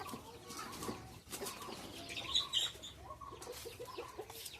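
Guinea fowl call in a farmyard with repeated harsh, scratchy cries and chatter, some wing flapping and mixed bird noise at moderate distance, no speech.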